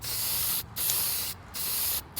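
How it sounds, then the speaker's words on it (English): An aerosol can sprays white vinyl sealer onto a guitar neck from about a foot away, three short, steady hissing bursts separated by brief pauses. "nice little steady overlapping sprays. About 12 to 14 inches away right now. Just misting it over."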